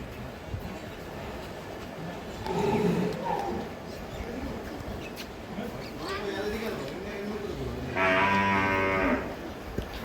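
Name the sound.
cow mooing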